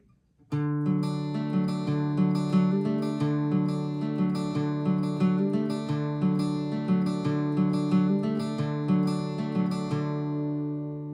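Acoustic guitar playing the intro of a song, a steady strummed and picked pattern of ringing chords that starts abruptly and sustains clearly for about ten seconds, solo with no voice.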